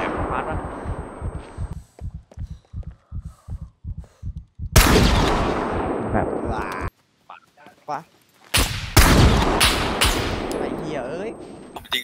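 Loud gunfire in the survival game SCUM: a fast run of evenly spaced shots, then heavy booming blasts and further sharp bursts, with silent gaps between volleys and voices talking faintly underneath.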